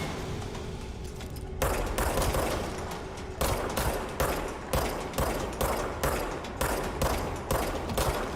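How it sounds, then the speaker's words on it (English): Gunfire from the video game Control comes in rapid repeated bursts of automatic shots. The bursts are separated by short gaps and stay moderately loud throughout, with no talking. "Who's shooting at me?"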